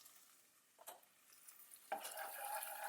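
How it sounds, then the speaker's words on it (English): Garlic, salt and pepper being stirred into vegetables in a hot pan, with a few quiet scraping stirs and a rising, faint sizzle of frying food. "Give it a quick mix."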